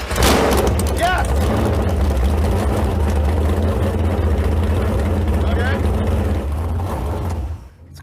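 A boat engine idles loudly and steadily with a deep rumble, then cuts off abruptly near the end.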